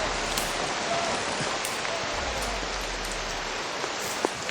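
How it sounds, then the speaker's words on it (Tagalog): Heavy rain pours down in a dense, steady hiss on surfaces nearby, with a few sharper drops and faint low rumbling under it, continuous for the whole stretch, with no clear voices. "Grabe, sobrang lakas ng ulan mga tol."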